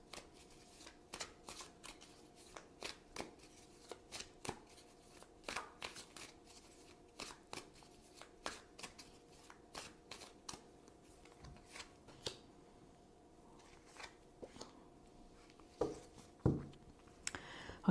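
Tarot cards are shuffled by hand in a quiet room, a run of soft riffling bursts and flicks repeating irregularly, close but faint, with no talk.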